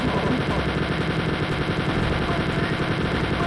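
A chain gun in Wolfenstein 3D fires in a steady, rapid, unbroken stream of loud shots for the whole stretch.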